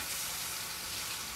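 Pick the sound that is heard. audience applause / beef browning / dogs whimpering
beef browning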